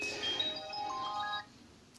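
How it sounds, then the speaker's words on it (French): An Elephone C1 Max smartphone plays its ringtone: a bright, melodic electronic tone pattern sounds clearly for about a second and a half, then cuts off into near silence. "Alors, volume de la sonnerie"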